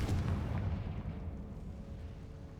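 A Confringo explosion spell goes off in a Harry Potter video game, a loud rumbling blast that fades into a low, churning roar, heard alone without talk.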